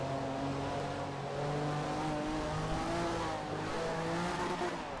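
Silk Cut Jaguar GTP race car in a racing video game, its engine droning steadily at high revs with the pitch rising and falling through gear changes, fairly quiet and with no talk over it.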